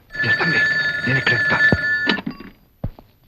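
An old-style telephone bell rings in repeated loud bursts in an indoor scene, then stops, followed by a couple of short thuds.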